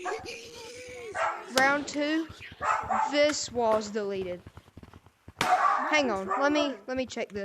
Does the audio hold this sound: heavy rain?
no